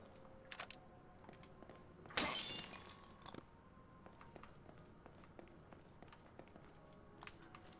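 A single sharp crash of glass as a mirror shatters in the horror game The Evil Within, loud and brief against an otherwise quiet, faintly ticking background.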